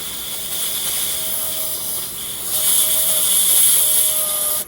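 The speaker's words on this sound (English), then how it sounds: "Just blow some compressed air in there." Compressed air blasts into a motor as a loud, steady close-up hiss with a faint whine, swelling louder midway before cutting off abruptly.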